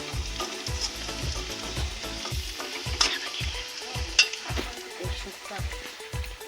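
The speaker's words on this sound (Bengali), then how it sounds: "কড়াই তেল দিয়ে তার মধ্যে আদা কুচি রসুন কুচি দিয়ে এবার এটা একটু ভাজা ভাজা হবে।" Chopped ginger and garlic sizzle in hot oil in a wok for chicken momo filling, a steady close frying hiss broken by regular rhythmic scraping strokes of a stirring spoon against the metal, with a couple of sharper clinks.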